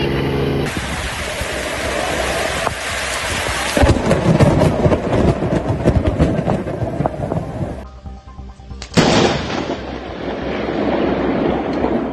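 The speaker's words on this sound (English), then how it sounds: "lightning appears and disappears almost instantly" Thunder from a nearby lightning strike rolls in as a loud, broad rumble with sharp cracks, rising abruptly and fading, then a second burst arriving, over a steady background of rain-like noise.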